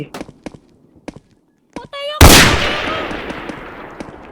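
A single loud sniper rifle shot in a Roblox game rings out sharply and decays over a second or two, after a few light clicks and some brief voice.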